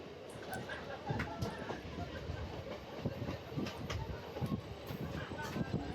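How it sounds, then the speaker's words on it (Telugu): A MEMU passenger train running between Narasapuram and Vijayawada slows down, with a steady rumble of wheels and rail clatter heard from inside the carriage and irregular knocks throughout. "ట్రైన్ స్లో అవుతుంది మనకైనా క్రాసింగ్ ఏమైనా వస్తుందా చూడాలి"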